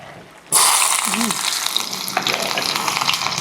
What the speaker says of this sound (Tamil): இப்போ எண்ணெய் வந்து நல்லா சூடாகிட்டு முதல்ல வந்து வெட்டி வச்சிருக்கிற சின்ன வெங்காயத்தை போட்டுருவோம்